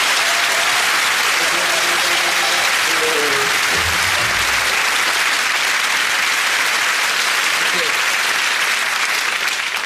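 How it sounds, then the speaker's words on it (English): A studio audience at a comedy sketch show bursts into loud, sustained applause that fills the whole stretch, dense and even throughout, with faint voices briefly underneath early on. "Audience applauds."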